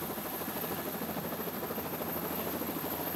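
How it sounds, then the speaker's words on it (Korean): Tour helicopter flying over Iguazu National Park near the falls, its rotor and engine making a steady, dense broadband roar with a thin high whine, unbroken and fairly close throughout. "관광객들에게 인기가 많은 헬기 투어를 해보기로 했다."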